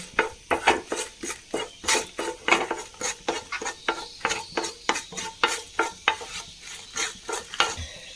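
Cinnamon, Kashmiri chilies and a bay leaf fry in a pan while being stirred, producing a steady run of regular scraping strokes about twice a second over a light, constant sizzle, close and loud with no talking.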